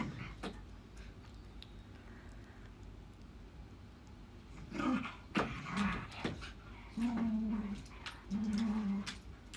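Two female dogs play fight nearby, a string of soft whimpers, yips and low growly grunts that swells in the second half over quiet background noise, with a faint voice in the mix.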